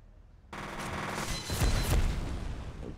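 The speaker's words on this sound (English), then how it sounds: "where is the shooting coming from?" Gunfire in the shooter game F.E.A.R. starts abruptly after a brief quiet: a dense, sustained burst of rapid shots and booms that swells louder toward the middle and stays intense to the end, with no talking.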